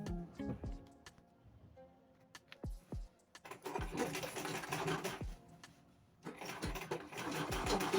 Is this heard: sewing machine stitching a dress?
yes